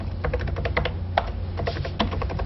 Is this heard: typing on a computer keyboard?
yes